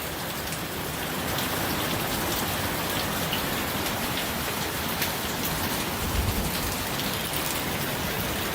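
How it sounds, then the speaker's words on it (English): A hard downpour drums steadily on surfaces nearby, building slightly at the start and then holding a loud, unbroken rushing hiss with a faint low thump near the end. "Oh yeah, it's raining."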